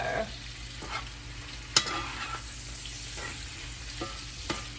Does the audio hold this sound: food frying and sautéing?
yes